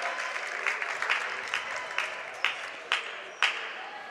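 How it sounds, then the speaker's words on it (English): Basketball fans in a gym give a sparse, slow sarcastic clap, individual claps at about half-second intervals rising above a steady crowd murmur. "A sarcastic clap from Waukeena faithful."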